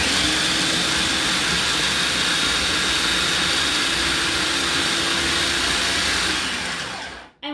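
A food processor grinds peanuts with a little added oil into peanut butter, a loud, steady whirring roar running for about seven seconds before the motor winds down and stops.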